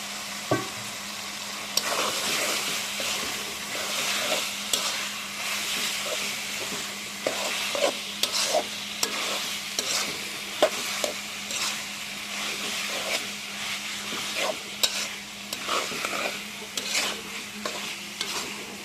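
Pieces of meat fry in a pan for a potato and meat curry while a spatula stirs them, a close sizzling hiss broken by repeated scraping and clattering strokes that come in irregular bursts.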